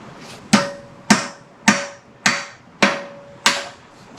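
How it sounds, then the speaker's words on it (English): Six sharp metallic hammer blows on an early Ford front straight axle ring out at a steady, unhurried pace, each with a bright clang and short ringing decay, close and loud. "we can probably delete that with a hammer"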